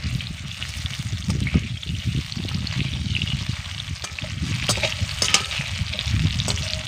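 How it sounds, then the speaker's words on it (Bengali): Green mango pieces and five-spice are stirred in hot oil, with a dense continuous frying crackle and sizzle throughout, spatula scrapes poking through, close and fairly loud, no talking. "এবার ভালো করে নেড়ে নেব।"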